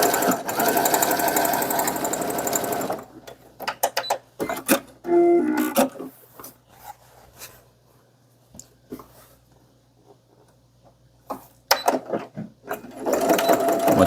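Sewing machine stitching cotton canvas fabric with presser-foot pressure set to 4: a loud steady run of rapid stitching, then stops with short bursts and quiet handling gaps before the machine starts up again at the end.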